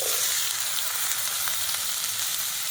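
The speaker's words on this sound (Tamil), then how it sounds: "இந்த வெங்காயம் பச்சை மிளகாய் வதங்குறது கொஞ்சமாக எண்ணெய் விடுறேன் லேசாக வதக்கி எடுக்க போகிறேன்" Onion and green chili fry in a little oil in a pan. The sizzle is steady and crackling, close and unbroken for a few seconds, with no voices.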